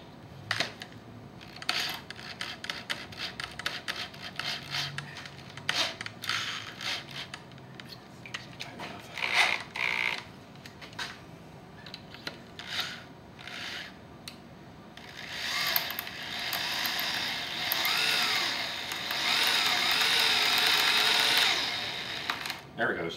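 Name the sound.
drill running in reverse removing broken manifold bolt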